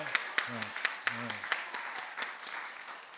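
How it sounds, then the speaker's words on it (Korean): Applause from a standing church congregation at a Sunday service, a steady patter of hands clapping with sharp individual claps, and a brief voice speaking over it. "우리 큰 박수로 감사함으로 또 수고해달라고"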